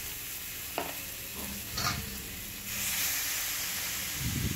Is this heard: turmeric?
yes